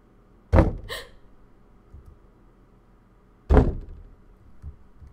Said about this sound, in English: Whatever it is, it's knocking right outside the door.